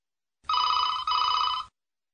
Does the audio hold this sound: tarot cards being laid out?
no